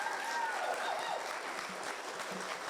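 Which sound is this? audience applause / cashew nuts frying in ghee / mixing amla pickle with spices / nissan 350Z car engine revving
audience applause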